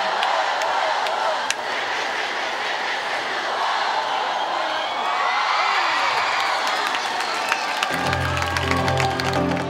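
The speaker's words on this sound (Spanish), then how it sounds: "Y un aplauso para ustedes mismos, familia." Live audience applause and cheering at a Spanish TV variety show event, a dense steady crowd roar of clapping with whoops, loud and continuous, with music coming in toward the end.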